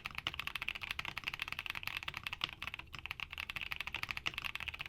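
Rapid, steady typing on a mechanical keyboard with marbly tactile switches, with dense clacky keystrokes running continuously at a brisk pace, close and clear.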